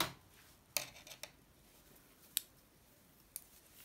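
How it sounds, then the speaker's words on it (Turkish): Scissors snipping grey knitting yarn, three or four short, crisp cuts spaced apart in a quiet room with no talking. "Burada gri renk ipimizi kesiyorum."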